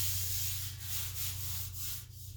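Sandpaper rubs over the fender of a 1978 Ford F100 during bodywork, a series of close, rhythmic scraping strokes above a steady low hum.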